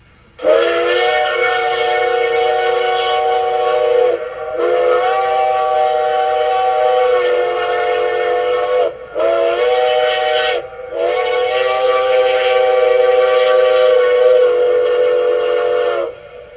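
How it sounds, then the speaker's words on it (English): A customized LGB Mogul model locomotive's Zimo sound decoder plays a highway crossing whistle: a loud, chord-like steam whistle sounding in the long-long-short-long pattern, with brief gaps between blasts and no talking. "F18, I left the original highway crossing whistle"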